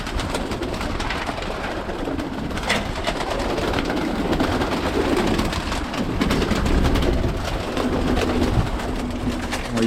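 Birmingham Roller pigeons in a loft coo softly and repeatedly just before feeding, low murmuring calls layered over rustling and scattered clicks of movement in the background.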